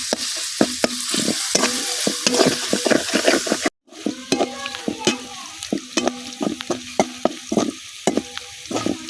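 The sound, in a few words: frying onions and green chilies in oil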